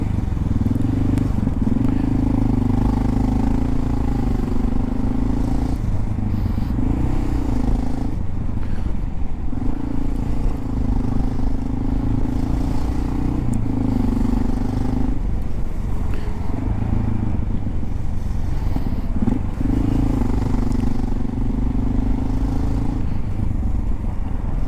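A Honda XR650L single-cylinder motorcycle ridden on cold roads, its engine droning steadily and loudly with a rhythmic rise and fall as the throttle and gears change, along with wind noise and no speech.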